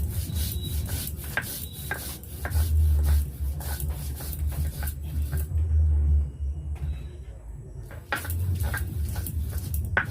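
Fried chillies and salt being ground on a grinding stone, making a steady, rhythmic rasping scrape that repeats in close strokes with brief pauses between them.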